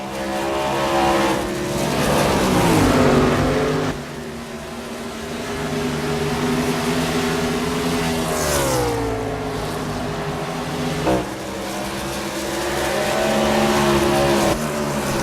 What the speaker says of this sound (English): And now we've actually got ourselves a cluster of cars, Shane.